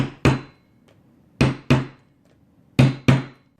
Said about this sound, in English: So I just do a couple taps just to get them set in place.